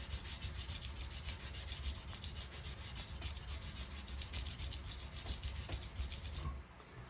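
Steady abrasive sanding strokes on a handmade horseshoe knife as scratches are worked out of the blade, a continuous close rubbing rasp with a regular back-and-forth rhythm that stops abruptly near the end.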